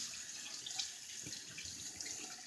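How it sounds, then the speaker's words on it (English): A faint, steady stream of tap water runs over a shaving brush as excess shaving soap is rinsed out, a continuous soft hiss with slight splashing and no voices. "I'm rinsing it out, all that excess soap in there"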